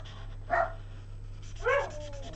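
Two short, sharp dog barks about a second apart, indoors in a pet-filled home, over a low steady electrical hum.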